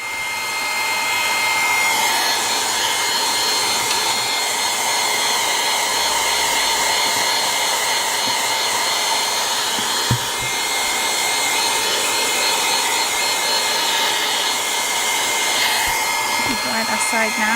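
A hair dryer blows steadily on a painted scissors holder, a loud, continuous close whine and rush of air with a constant tone throughout, and brief faint clicks and handling bumps.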